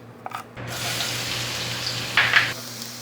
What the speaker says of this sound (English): I like to toast the garlic before the onion to add that extra garlicky flavor